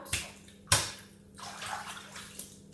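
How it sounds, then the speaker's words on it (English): Close splashes of water in a basin, a few sharp slaps with sloshing, swirling water between them, no voices. "Splash, splash, swirl, swirl."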